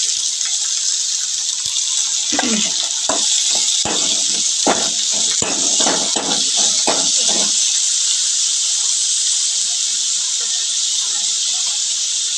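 Finely chopped tomatoes go into hot oil after onions, and a loud, steady hiss of sizzling runs throughout with a scatter of clinks and scrapes in the middle.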